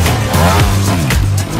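A trial motorcycle's engine revs hard at full throttle during a French trial championship final at Quinssaines, its harmonic pitch climbing and dipping over a steady loud drone, with a brief voice in the background.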